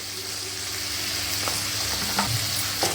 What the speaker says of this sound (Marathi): आता हे सर्व परत परतून घ्यायचं